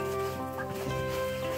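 Chickens clucking softly at close range in a short, continuous stretch of low murmuring calls with a steady background hum.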